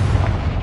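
A Confringo fire spell detonating in Hogwarts Legacy, a loud, deep, sustained explosive rumble with no other sounds.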